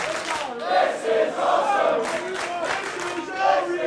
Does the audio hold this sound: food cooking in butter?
no